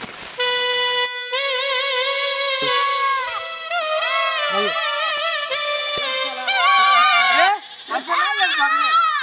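A large billy goat bleats repeatedly in wavering, nasal calls that dominate the scene, with people talking loudly around it in an outdoor New Year picnic setting.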